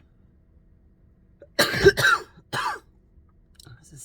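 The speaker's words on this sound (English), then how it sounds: "a sneeze cough." A person lets out a sneezing cough: a sharp burst followed by a second, shorter one, close and loud in an otherwise quiet room, with a faint rustle afterward.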